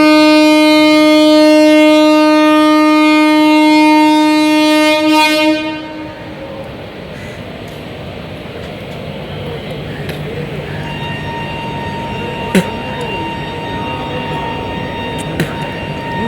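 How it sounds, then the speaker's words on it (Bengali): A passenger train on the Amtala to Howrah route pulls away: a loud, sustained horn blast lasts about five seconds, then gives way to a steady running rumble with faint clanks and a couple of sharp knocks, and voices murmur in the background. "আমাদের ট্রেনটা ঠিক সময় মতন ছেড়ে দিয়েছে"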